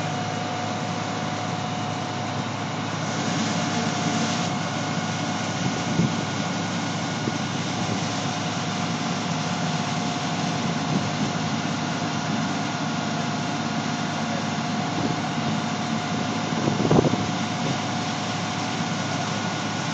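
A fire engine's motor runs steadily during pump training, a loud, continuous drone with a constant hum, rising slightly near the end as the throttle opens, with faint knocks and no talk.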